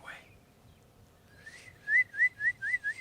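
A person whistles a short tune of about six rising, chirpy notes in quick succession after a brief opening note, fairly close and clear, with faint room noise and no talk over it.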